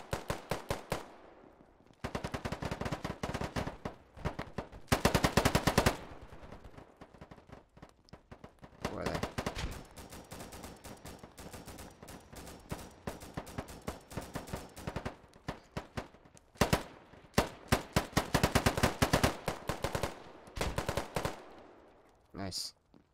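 Gunfire in the video game Polygon: repeated bursts of rapid automatic fire, loud and close, separated by short pauses and some single shots throughout.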